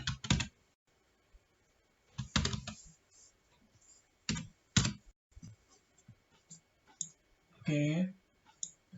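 A computer keyboard clatters in irregular bursts while someone types city names into Java code, with quick close clicks separated by pauses and a brief voiced sound near the end.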